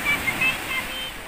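Warm sea washing onto a sandy beach with a little foam on the water, heard as a steady broadband wash of surf that stays close and fairly even for a brief moment.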